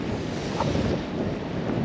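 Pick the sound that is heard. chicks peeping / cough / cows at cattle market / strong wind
strong wind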